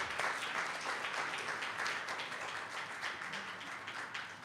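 A temple audience at an evening devotional program in Vrindavan gives a steady round of applause, dense clapping from many people holding at an even level for several seconds without a break.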